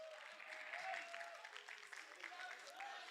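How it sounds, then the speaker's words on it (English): Applause from an audience at a learner leadership event, a fairly faint, steady patter of clapping with voices mixed in, lasting a few seconds. "Give yourself a round of applause."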